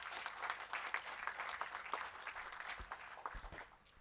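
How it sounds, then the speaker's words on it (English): An audience at a film festival conversation event claps for an arriving guest, a fairly quiet, uneven patter of applause that swells and thins, heard at some distance. "let's welcome him with a thunderous round of applause"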